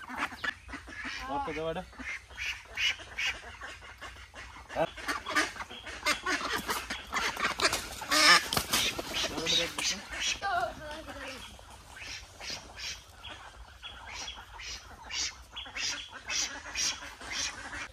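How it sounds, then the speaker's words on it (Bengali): Domestic ducks quack and honk excitedly in a rapid, uneven series of calls as they are chased and caught in a village, close and lively, with people talking over the commotion. "যে হাঁসটা বড় সেই হাঁসটা ধরবো"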